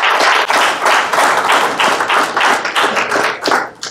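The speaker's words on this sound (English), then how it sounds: "I want you first to give yourself a round of applause" An audience gives a round of applause, close and loud clapping with a quick, uneven pulse of individual hands that fades slightly toward the end.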